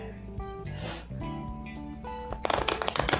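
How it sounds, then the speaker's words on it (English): A deck of tarot cards is shuffled by hand, with crisp riffling bursts toward the end over soft background music and light breathing. "I've already shuffled them for 4 times."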